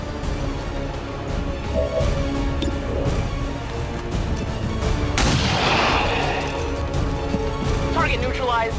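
A single sharp pistol shot from XCOM 2 cracks out about midway through, standing out above a steady background of game ambience and ongoing narration.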